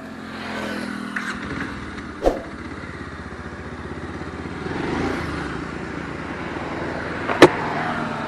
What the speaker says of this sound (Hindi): ये जो बाइक है ये है बजाज पल्सर 125 सीसी और आज हम करने वाले हैं इसका हाई स्पीड टेस्ट